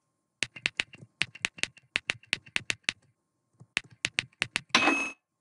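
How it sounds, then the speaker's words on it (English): Close, crisp keystrokes tap on a computer keyboard in quick irregular bursts with a short pause midway, ending in a brief rattling clatter. "You can just start typing."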